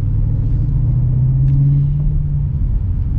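A manual Dodge Challenger Scat Pack Widebody cruises slowly in sport mode, its engine a deep, loud rumble with a steady low drone that swells slightly midway.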